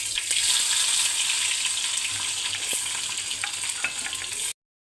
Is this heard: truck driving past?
no